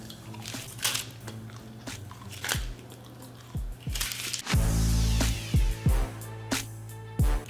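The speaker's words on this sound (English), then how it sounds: "the first part is just chewing up the gum" Three pieces of gum chewed together as one large wad, giving close, wet, squishy chomps in an irregular rhythm, with sticky smacks and clicks from the mouth and no talking.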